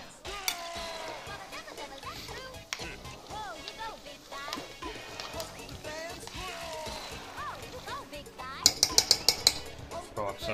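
Beef stew in a cooking pot is stirred, with a spoon clinking and scraping against the pot under a talking voice and a quick run of sharp metallic taps near the end.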